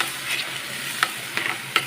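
Sago pearls roasting in melted ghee in a pan, soft steady sizzle with a few sharp stirring scrapes and clicks of the spoon against the pan, close and alone.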